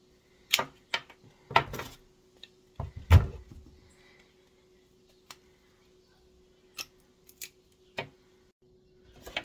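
Sassafras root is split and cut into small pieces, giving sharp, isolated knocks and snaps at irregular intervals with quiet gaps between, one heavier thud near the start, close and fairly loud.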